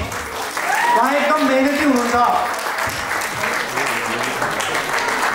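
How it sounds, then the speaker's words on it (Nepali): Enthusiastic audience applause at a farewell session, loud and continuous throughout, with a person speaking over the clapping partway through. "कृपया जोरदार ताली शशिकलाको लागि"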